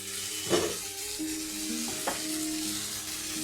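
Mutton dal sizzles steadily in oil in a pan, a constant close hiss broken by a couple of brief stirring scrapes.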